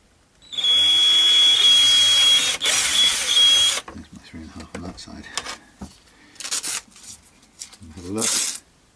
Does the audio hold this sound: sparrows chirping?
no